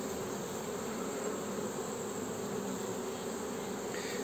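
Honeybees buzzing at an opened beehive during an April inspection after cold, rain and storms, a dense, continuous close drone of many bees with no talking.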